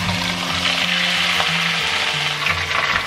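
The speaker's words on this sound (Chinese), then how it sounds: "我们再把鱼肉放下去，然后保持中大火煎。" Fish sizzling steadily in hot oil in a pan over medium-high heat, a continuous close frying hiss with a low hum underneath.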